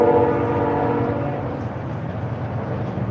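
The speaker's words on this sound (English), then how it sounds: "here's a train" A passing train sounds a sustained horn at first, then the horn drops away and leaves a loud, steady rumble of rolling rail cars nearby.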